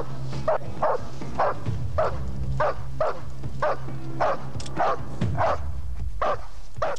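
A police tracking dog on a pursuit into a residential area barks repeatedly in a steady series of sharp, loud barks close by, with no talk over it.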